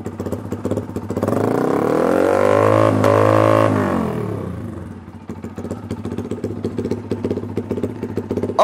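A modified Yamaha R15 V2 motorcycle fitted with a BRT exhaust muffler revs up loudly, holds a high rising drone for a couple of seconds, then drops back to a lumpy, clattering idle nearby.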